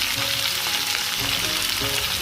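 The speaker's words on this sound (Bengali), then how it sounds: "সয়াবিনটা ভাজা হয়ে গেছে" Soybean chunks fry in a pan with a dense, continuous close sizzle and faint stirring, loud and even throughout with no voices.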